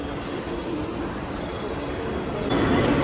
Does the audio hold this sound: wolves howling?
no